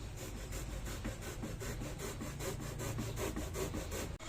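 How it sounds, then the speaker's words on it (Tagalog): A hacksaw cuts a metal motorcycle seat frame in steady, rapid back-and-forth strokes, a rhythmic rasping close by with no voices. "Ang gamit lang tayo ng lagaring bakal. Unti-unti lang."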